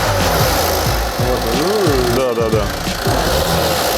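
An Opel Corsa engine with a suspected timing chain fault runs steadily at idle, giving a continuous mechanical rattle and ticking close up. Someone talks briefly over it.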